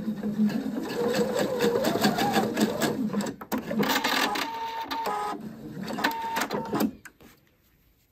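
A sewing machine stitches the collar of a poncho in quick mechanical runs with short pauses, close and clear, stopping near the end.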